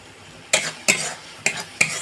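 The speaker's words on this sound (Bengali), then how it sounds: "টক দইটা দিয়ে কষতেই থাকবো।" A spoon scraping and stirring yogurt into a sizzling pan of Afghani egg curry, four sharp scraping strokes at a steady pace over a soft frying hiss.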